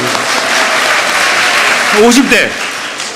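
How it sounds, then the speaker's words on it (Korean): Audience at a seminar applauding steadily, dense clapping with voices rising over it near the end. "40대도 박수 쳐줘야 돼."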